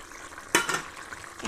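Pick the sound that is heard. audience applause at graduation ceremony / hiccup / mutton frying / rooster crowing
mutton frying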